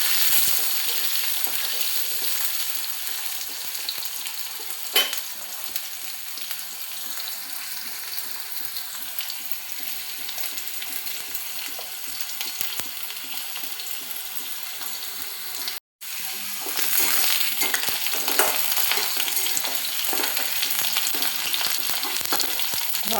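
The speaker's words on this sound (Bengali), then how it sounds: "আলুগুলো একটু ভেজে নেব।" Cut potatoes fry in a pan for a homestyle Bengali bottle gourd curry, giving a steady close sizzle with occasional stirring scrapes and a brief break near the end.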